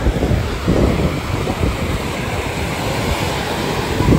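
Ocean waves breaking on a beach near Vizag, a loud, continuous roar of surf with rolling surges and wind buffeting the microphone, no talking.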